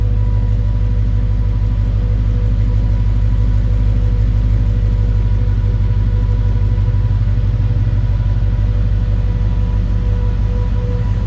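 A 2023 Ford Mustang Shelby Super Snake engine idles steadily nearby, heard from the rear, a deep constant rumble with an even mechanical pulse and no revving.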